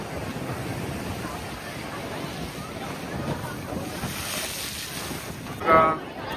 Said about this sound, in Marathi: आता बघा किती समुद्राच्या लाट हा एकदम समुद्र बघा मस्त पैकी खवळले